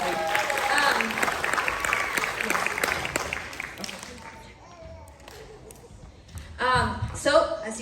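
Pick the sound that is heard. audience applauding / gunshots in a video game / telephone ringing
audience applauding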